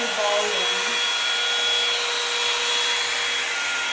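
A Revlon One Step hair dryer brush runs continuously on thick, curly hair, giving a steady, loud blowing whine with a constant motor hum throughout and no pauses.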